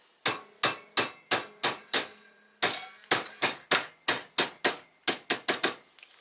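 Sharp hammer blows strike a phone holder in quick bursts of about five or six, a short pause between groups, close and loud with ringing decay.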